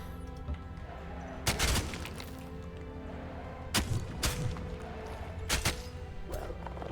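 In the fantasy strategy game Age of Wonders 4, a unit blows apart in a few sharp, crackling bursts, spaced out over a dense background of battle noise and music.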